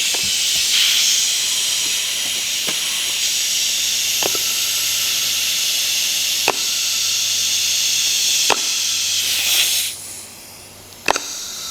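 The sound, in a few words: compressed air hissing during leak check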